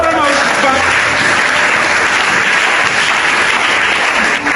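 A church congregation applauds in sustained, dense clapping from many hands. It stays loud and steady throughout, with no clear speech on top.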